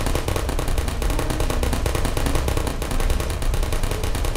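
Rapid, unbroken automatic gunfire from turrets in the video game Portal, a dense loud stream of shots continuing without pause.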